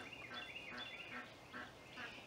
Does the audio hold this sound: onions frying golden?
no